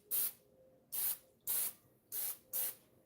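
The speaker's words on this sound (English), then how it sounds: "let me put a little spray on here so it doesn't stick to the noodle" Cooking oil spray hissing onto a pan before noodles go in, five short bursts in a steady rhythm, close and clear with quiet gaps between.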